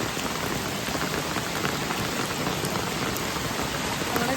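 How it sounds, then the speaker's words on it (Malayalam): Heavy rain pours down steadily near a dam in misty hills, a dense continuous hiss of drops striking surfaces with no pauses and no talking. "നല്ല മഴയാണ് കേട്ടാ."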